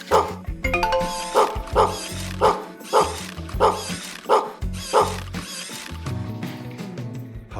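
A LEGO robot dog barks in a quick repeated rhythm, about ten loud mechanical yaps over whirring gears and ratcheting, close and prominent.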